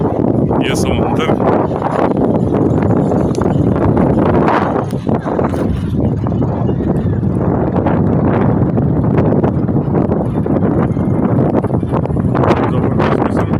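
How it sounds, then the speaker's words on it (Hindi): Strong wind buffets the microphone at Manora beach in Karachi, a loud continuous roar with gusty surges, and someone talks over it. "जबरदस्त किस्म की हवा चल रही है।"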